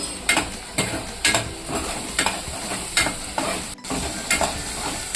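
Ground masala with turmeric and asafoetida fries in hot oil with curry leaves for a traditional urad dal, a continuous sizzle broken by regular spatula scrapes about every half second, close and without talk.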